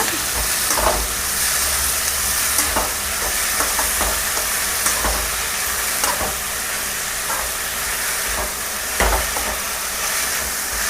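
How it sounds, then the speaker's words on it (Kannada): Moringa leaves and egg stir-fry sizzling steadily in a pan with occasional scraping stirs, a constant loud frying hiss throughout with no voices. "ಚೆನ್ನಾಗಿ ಈಗ ನೋಡಿ ಈ ಥರ ಮಿಕ್ಸ್ ಮಾಡ್ಕೊಳ್ಳೋಣ"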